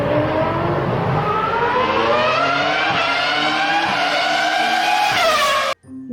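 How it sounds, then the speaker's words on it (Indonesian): A toy Formula One race car gives off a loud synthetic engine whine that climbs steadily in pitch like revving acceleration, then cuts off abruptly near the end. "Ada juga mobil balap Formula One."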